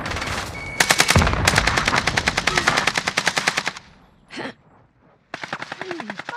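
Rapid automatic gunfire from Call of Duty: Modern Warfare, loud, dense bursts of machine-gun fire that break off briefly, followed by a short distant burst and then more sustained shooting.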